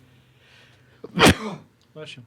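A single sharp sneeze bursts out amid quiet chatter, loud and close, followed by a short breathy tail, with people talking before and after it.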